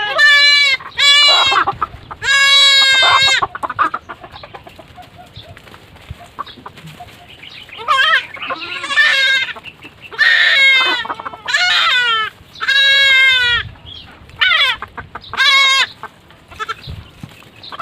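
Young goat kid on a farm bleating repeatedly in loud, close, wavering cries, with short pauses and quieter rustling between calls.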